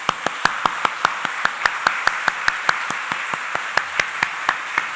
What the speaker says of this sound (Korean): 힘차게 한 20초 정도 우리가 서로를 향하여 축하하면서 박수 한번 하십시다